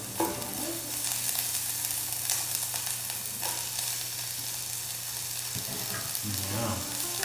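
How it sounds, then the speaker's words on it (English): Onion and garlic sauté in a hot pan, a steady close sizzle running throughout with occasional stirring scrapes and clatter, no voices. "just gonna saute some onion and garlic"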